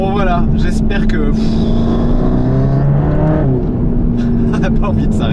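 Mercedes-AMG GT Black Series, a 730 hp track-focused supercar, drones loudly from inside the cabin while driving, its steady engine note shifting slightly in pitch, with someone talking over it.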